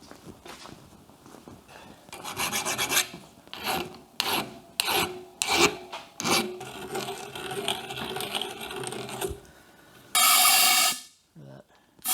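A hand file rasps against a 63-year-old Triumph Tiger Cub motorcycle frame part in a workshop, irregular stroking scrapes in uneven bursts, ending with a louder sustained grinding burst.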